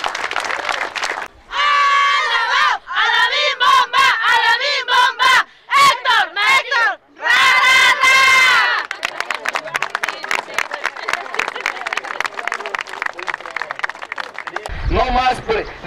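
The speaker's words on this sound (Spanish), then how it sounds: "otro gran aplauso para nuestro líder moral, Cipriano Charres Pedraza" A crowd at a political rally in support of a candidate erupts in shouting and cheering, with bursts of voices and a steady clatter of clapping throughout; a loud close voice breaks in at the end.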